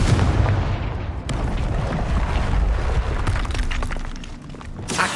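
Confringo blasting spell from Hogwarts Legacy bursting in a loud, dense crackling explosion that sustains for several seconds, with a sharp second burst near the end.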